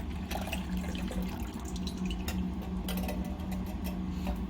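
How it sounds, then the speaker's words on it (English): A can of evaporated milk being poured into a stand mixer, a steady liquid rush with a low continuous hum under it and a few faint ticks, with no talking. "So you pour your can of evaporated milk into your mixer."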